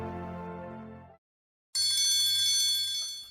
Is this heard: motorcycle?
no